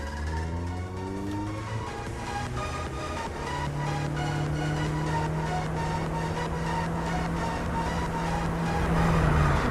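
A Nissan Wingroad Y12 engine revs and roars steadily while driving at modest speed, a continuous rising drone with harmonic tones heard from inside the car, growing slightly louder toward the end.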